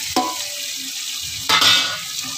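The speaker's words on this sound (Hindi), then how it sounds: "इसे अच्छी तरह भून लेती हूँ" Potato, green peas, mint and coriander are fried and stirred in a pan for a vegetable tarkari, giving a steady sizzle with sharp spoon-against-pot clinks at the start and midway.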